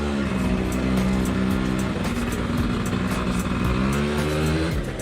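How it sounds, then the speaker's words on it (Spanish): A motorcycle rides past at moderate distance, its engine note rising and falling in pitch as it revs and then fades slightly, heard alone without talk. "ahora me paseo con moto."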